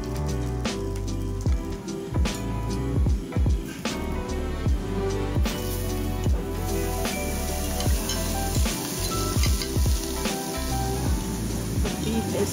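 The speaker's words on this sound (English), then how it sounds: "Sizzling." Meat sizzles steadily on a hot barbecue grill at a night market in Taiwan, a crackling hiss with scattered pops and clinks, and people talk quietly over it.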